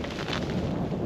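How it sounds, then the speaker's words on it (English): Frozen lake ice near Fairmont, Minnesota booms and rumbles with a deep, sustained resonant crack that rolls on for about a second, loud and without any voices over it. "this ice is cracking, banging, popping"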